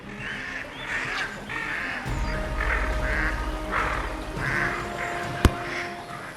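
Ducks quack in short repeated bursts at a watering hole where broods of ducklings swim beside their mothers, moderately close and steady, over a low rumbling background.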